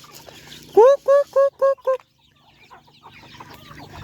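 A large chicken gives five loud, evenly spaced clucks in quick succession, followed by quiet background.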